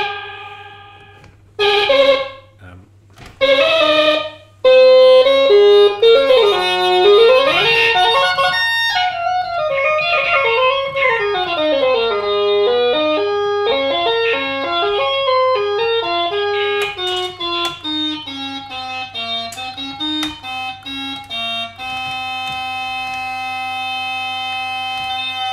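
A 1978 analog mono synthesizer playing dry, without a Leslie speaker: a few staccato notes, then long gliding, siren-like pitch sweeps up and down, ending on a sustained tone over a low steady hum.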